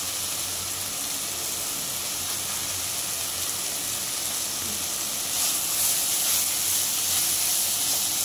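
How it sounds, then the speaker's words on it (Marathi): Taklyachi bhaji steams on a low gas flame under a lid, giving a steady, even hiss with faint sizzling that swells slightly toward the end. "थोडा वेळ वाफ घ्यायचं, थोडा वेळ झाकण ठेवते त्याच्यावर."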